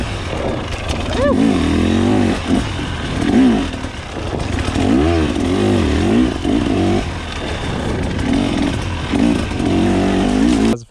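A stock 2024 KTM 300 XC-W two-stroke dirt bike set up for trail riding, ridden hard with its engine loud and near throughout, rising and falling in repeated revving bursts as the throttle is worked.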